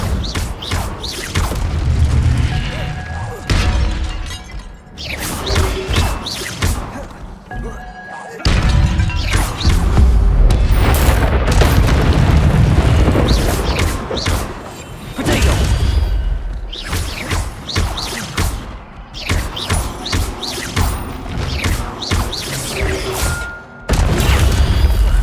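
Incendio fire spell blasts in Hogwarts Legacy combat: repeated loud booming bursts and crashes with whooshes, coming in rapid clusters separated by brief pauses, dense and forceful throughout.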